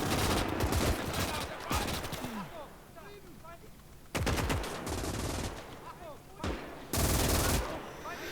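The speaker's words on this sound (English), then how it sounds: "So I'm moving my machine gun up to give covering fire." Tripod-mounted MG34 or MG42 machine gun laying down covering fire in the Gates of Hell WWII strategy game, loud repeated bursts in several separate volleys with quieter battlefield noise and chirping between them.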